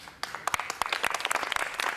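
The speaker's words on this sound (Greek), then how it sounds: "Πιο δυνατό χειροκρότημα." A studio audience at a Cypriot television variety show bursts into applause after a quiet start, with distinct, fairly close individual claps quickly thickening into a lively, uneven patter.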